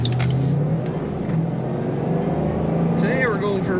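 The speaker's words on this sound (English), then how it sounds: "Today we're going for a ride in a 2007 Ford Mustang GT500." A 2007 Ford Mustang Shelby GT500 convertible on the road gives a steady, deep engine rumble heard from inside, with the pitch holding fairly even throughout.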